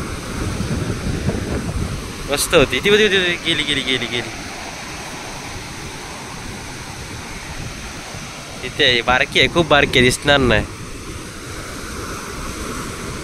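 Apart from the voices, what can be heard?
sea waves on Achara beach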